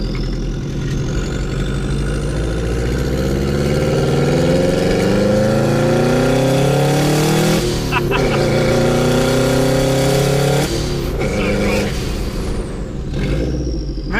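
A car with a tiny turbo accelerates hard, its engine note climbing through repeated rising sweeps, loud and close, with a brief gear-change dip before revving up again; people talk over it.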